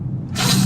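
A sudden breathy, hissing burst like a sneeze cuts in partway through and trails off into a noisy exhale.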